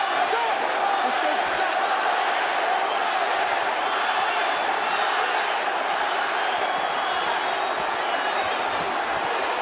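A boxing arena crowd roars in a dense, continuous wash of cheering and shouting, loud and distant-sounding, with occasional claps and thuds mixed in.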